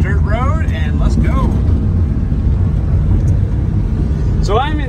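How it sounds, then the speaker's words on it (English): A Suzuki Carry mini truck drives in third gear along a country dirt road, its engine a steady loud rumble throughout, with someone talking over it at the start and again near the end. "I'm in third gear right now, driving down a country dirt road"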